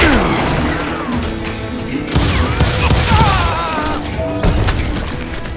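Gunfire in the video game Call of Juarez Gunslinger, a dense, loud barrage of shots and booms mixed with ricochet whines and game sounds, continuing across the whole stretch.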